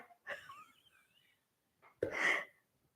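A single quiet sneeze bursts out near the end, preceded by a soft breathy intake and faint vocal sounds.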